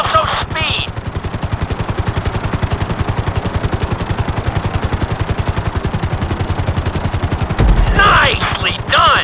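A helicopter flies through a flight school course in GTA 5, its rotor chopping in a loud, fast, even pulse close by, with short bursts of voices at the start and end.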